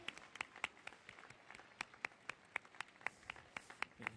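Sparse, distinct hand claps from a small audience at a Tir de l'Oiseau shooting finale, individual claps ringing out in an uneven rhythm over faint background murmur, quiet and somewhat distant.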